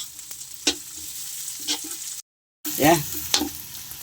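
Onions sautéing in a pan for Filipino chicken adobo crackle with a moderate sizzle punctuated by sharp stirring scrapes, with a short dropout and one brief spoken word.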